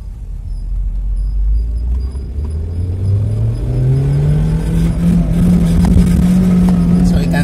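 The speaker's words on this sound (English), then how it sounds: "So accelerating here from a standstill." A Toyota car with a stalling and hesitating fault accelerating from a standstill, its engine droning low and rising steadily in pitch, loud and close inside the cabin.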